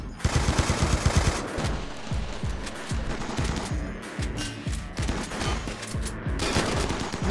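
Turrets in Rimworld firing rapid, dense bursts of automatic gunfire, loud and nearly continuous with overlapping rattling shots, no voices over the barrage.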